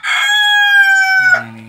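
A Polish chicken lets out one loud, close crow held for over a second, then trails into a lower clucking call at the end.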